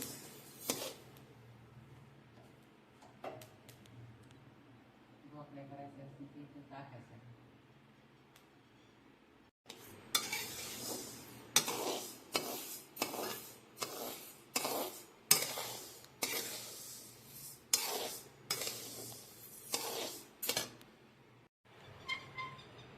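Lentils and millet roasting in a pan over low heat, stirred with a metal spoon: quiet at first with faint pan clinks, then a long run of rhythmic scraping and rattling strokes, close and steady.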